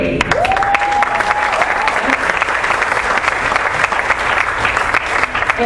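A St Johns audience bursts into dense, loud, sustained applause after a song, with a brief whistle or whoop rising above the clapping.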